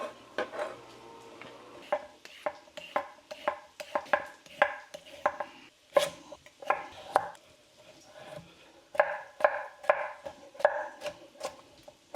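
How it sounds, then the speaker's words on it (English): Carrots are chopped small and thin with a knife on a cutting board, a rapid run of sharp, close knocks in a quick steady rhythm with brief pauses, alone without talk. "Fastest way to cut carrots."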